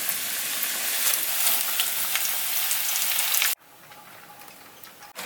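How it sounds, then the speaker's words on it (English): Food frying in hot grease in a pan aboard a sailboat gives a loud, steady close sizzle, which drops abruptly to a softer crackle partway through. "time to throw these boys in the grease"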